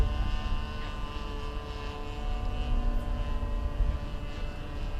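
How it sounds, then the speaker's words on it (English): A propeller-driven light airplane drones steadily overhead on a pass before landing, its engine a continuous, moderately loud hum with strong steady tones and no voices over it. "this next pass will be gear pass, Jeff, and I'll be landing"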